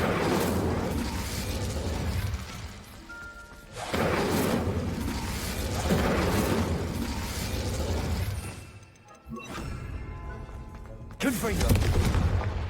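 Fiery Incendio spell blasts in the Hogwarts Legacy video game, several bursts of roaring flame and impact booms across a loud, busy combat scene with game voices calling out over the effects.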